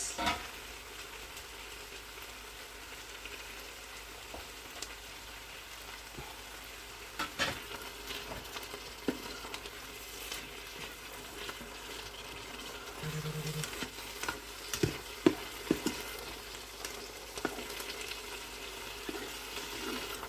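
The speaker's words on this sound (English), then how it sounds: "And we'll just saute these off nicely together with the mince." Minced beef and onions sauté in a Ninja 15-in-1 pressure cooker, giving a steady close sizzle of frying with scattered scraping and clicking stir sounds, no voices.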